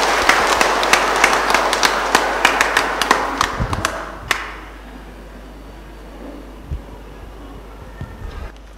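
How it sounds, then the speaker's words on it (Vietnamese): A church congregation applauds newlyweds at a Catholic wedding, a burst of sharp, loud clapping that stops abruptly after about four seconds, leaving a quiet hall with a few faint knocks. "xin cộng đoàn chúng ta nổ một tràng pháo tay để chúc mừng cho anh chị"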